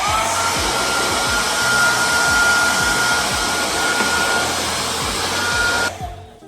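Hair dryer or heat gun blowing steadily on a car spoiler's 3M tape during removal on a 370Z, a loud continuous close whoosh with a faint whine that cuts off abruptly near the end.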